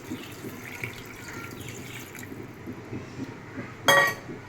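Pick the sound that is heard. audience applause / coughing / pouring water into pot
pouring water into pot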